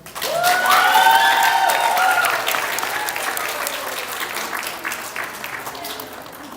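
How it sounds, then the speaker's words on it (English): Loud crowd applause with whoops and cheering at a summer academy assembly, peaking early and then settling into steady clapping that tapers off gradually. "Let's give everyone that is flying one more round of applause."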